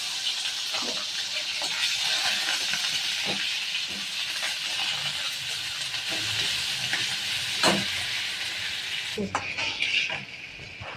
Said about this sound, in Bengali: তেলটা গরম হয়ে গেছে, এখন আমি আরো একটু পেঁয়াজ, আদা, রসুন বেটে রেখেছি আর তার সঙ্গে কাঁচা লঙ্কা কুচি এটা তেলের মধ্যে দিয়ে দেবো